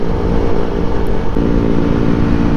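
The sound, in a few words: motocross-style motorcycle riding past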